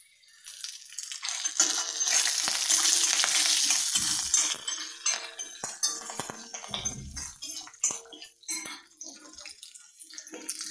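Curry leaves hit hot oil with cumin, bursting into a loud sizzle that fades into crackling, clinks and stirring while a voice talks intermittently, in the making of a radish chutney.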